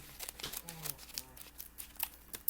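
Scissors snip open a watermelon Starburst Jell-O powder packet, giving brief crinkling and tearing sounds up close while a person talks over them.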